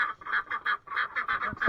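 Farm ducks give a quick run of loud, nasal quacks, about ten in a fast, slightly irregular rhythm, heard close up and with no one talking.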